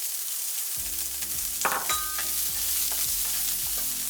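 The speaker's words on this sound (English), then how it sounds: "gradually add the vegetables. Between each vegetable, leave 30 seconds by stirring from time to time." Vegetables with garlic stir-fry in a pan: a steady close sizzle runs throughout, broken by a few quick stirring scrapes, with no voices.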